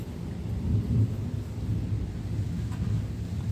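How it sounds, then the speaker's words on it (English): Thunder rumbles low and continuously at a moderate distance during a storm, with a faint hiss of rain and breeze behind it and no voices. "Oh, it's thundering."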